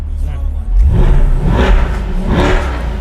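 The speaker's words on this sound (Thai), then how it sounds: "ล้อมีเบรกแล้วเสียงท่อ V8 ล้วนลั่นขออีกทีได้ไหม" A red Chevrolet Corvette C8 with the Z51 package and a mid-mounted V8 revs hard after a brief idle. The deep exhaust roar swells and then holds strong and close for the rest of the stretch.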